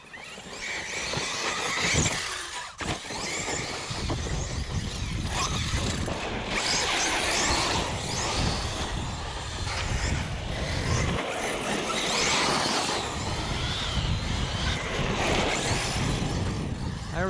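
A 1/7 scale ARRMA Fireteam RC car drives hard on its maiden run and throws a handbrake skid. A loud, close motor whines steadily, with scraping tire squeal and a brief dip partway through. No one speaks.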